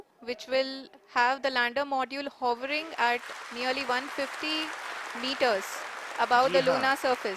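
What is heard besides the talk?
scientists applauding during Chandrayaan-3 lunar landing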